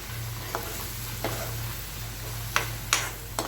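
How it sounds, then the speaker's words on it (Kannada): Snake gourd mixed with turmeric sizzles steadily in a pan, with a soft, continuous crackle. A spatula clicks and scrapes against the pan now and then, and a low hum sits underneath. "ಇದು ಫ್ರೈ ಆಗಲಿ, 1 ನಿಮಿಷ ಸಾಕು."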